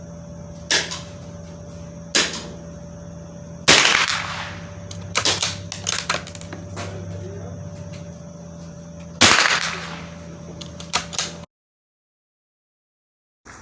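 A Savage Mark II FVXP .22LR bolt-action rifle with a Weaver scope fires at a paper target 75 yards away. Sharp, close cracks are spaced a few seconds apart, mixed with bolt and handling clicks, then cut to silence.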